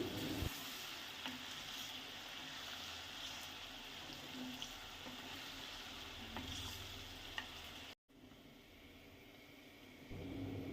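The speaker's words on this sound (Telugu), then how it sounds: "ఒక రెండు టేబుల్ స్పూన్లు అల్లం వెల్లుల్లి పేస్ట్ వేసుకొని కొంచెం పచ్చి వాసన పోయేంత వరకు వేయించుకోవాలి" Two tablespoons of ginger garlic paste frying on low flame in a pan for chicken mango pickle, a steady close hiss and sizzle with faint stirring scrapes that briefly cuts out, then continues.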